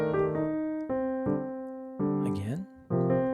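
Arpeggio played over a 2-5-1 chord progression in a rhythmic jazz pattern, sounding as a few sustained, pitched note groups that ring one after another with clear attacks, plus a brief gliding run in the middle, loud and close with no talking.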